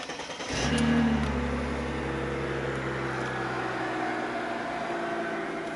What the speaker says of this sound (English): if we get the car running, we can listen to it ticking over